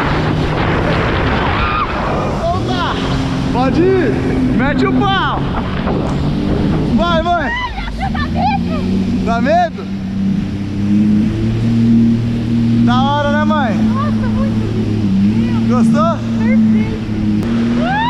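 A jet ski engine revs and accelerates on water as it turns, droning loud and close under excited voices that shout and talk over it, with gusts of wind buffeting the microphone.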